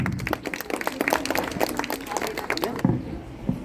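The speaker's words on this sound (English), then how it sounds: "Please give a big round of applause for them." A crowd claps at an annual school prize distribution ceremony, dense, steady applause with voices mixed in, fading toward the end.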